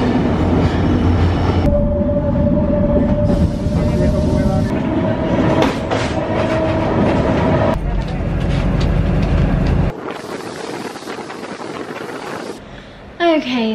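Passenger train in Sri Lanka running along the rails, a steady loud rumble and rattle of carriages with clattering wheels and a brief tonal squeal, shifting in intensity partway through, with some voices faintly present.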